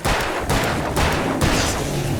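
Gunfire in the Alan Wake video game, a loud, dense run of shots with sharp bursts near 0.5, 1.0 and 1.4 seconds over a continuous rumbling wash, with no talk.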